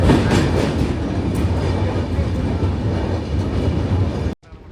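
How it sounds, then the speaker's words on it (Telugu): A passenger train on the Tirupati to Vijayawada route rumbles steadily along near Vijayawada, a loud continuous roar of wheels and carriage noise from inside that cuts off abruptly at the end. "మా ట్రైన్ అయితే విజయవాడ దగ్గరికి అయితే వచ్చేసింది."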